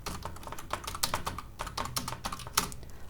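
Someone types HTML heading code on a computer keyboard, a quiet, close run of quick irregular key clicks with a few louder strikes spread over three seconds.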